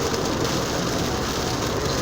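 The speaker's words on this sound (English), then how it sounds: "Yeah, it's more rain now than it is." Heavy rain drums steadily on a vehicle while driving into Iowa during an April storm, a dense, continuous wash of noise with no break and no talking.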